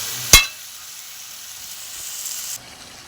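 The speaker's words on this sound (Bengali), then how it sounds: "তারপরে আলুগুলো ছেড়ে দিয়েছি, দিয়ে এবার একটু ভাজা করবো" Ridge gourd and potatoes frying in a pan, a soft steady hiss of sizzling oil, close by, opening with one sharp clatter of a utensil and continuing evenly without talk.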